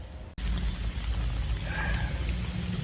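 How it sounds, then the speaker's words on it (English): Steady rain falls during a long-distance walk across Illinois, a dense, even patter with low rumbling underneath, continuous and fairly loud after a brief dropout at the start, with no voices. "This rain is bullshit."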